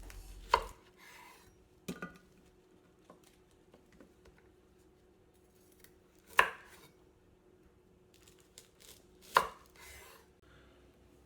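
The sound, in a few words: knife cutting Brussels sprouts in half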